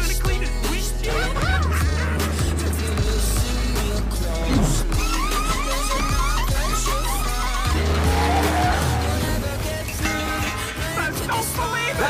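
Race car roaring out of a pit stop, engine loud and close with squealing tyres and shifting revs, a sustained aggressive howl and skid over about twelve seconds, mixed with faint crowd or commentary noise.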